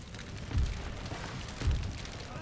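Explosive shells landing nearby in a tank video game, two heavy low booms about a second apart over a dense crackling battle din.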